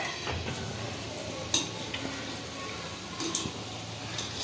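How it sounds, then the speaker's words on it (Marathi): Gulab jamun dough balls frying in hot oil on a gas stove, a soft continuous sizzle and bubble with a couple of brief utensil clinks and taps over it. "आधी तळून दाखवते."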